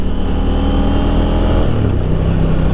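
A 2021 KTM 890 Duke motorcycle accelerates, its engine note holding loud and close before the pitch shifts partway through as the bike pulls harder, with wind noise underneath and no talk.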